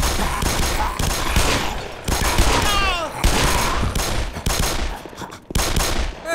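Rapid gunfire crackles through a firefight in the video game Black Mesa, with bursts of automatic shots and sharp single reports coming loud and close over several seconds, alongside whining, warbling weapon effects.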